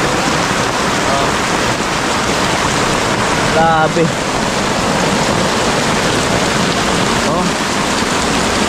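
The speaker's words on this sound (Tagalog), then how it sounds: "malakas ang ulan" Heavy rain pours down steadily in a dense, loud wash over a building site, with a brief voice exclaiming partway through.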